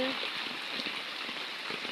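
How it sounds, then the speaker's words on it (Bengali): Heavy morning rain from a low-pressure system pours down outdoors near a washing area, a dense, steady hiss of falling water close by for under two seconds. "আমাদের এখানে সকাল সকাল বৃষ্টি হচ্ছে দেখতে পাচ্ছ গাইস কেমন বৃষ্টি দিয়েছে"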